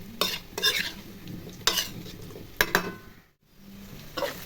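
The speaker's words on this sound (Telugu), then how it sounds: "ఇదిగోండి ఉల్లిపాయలు వేగిపోతున్నాయి." Sliced onions fry in a pan for a South Indian fish pulusu, with a metal spoon scraping and stirring in several distinct strokes over a steady sizzle, close up, with a brief pause near the end.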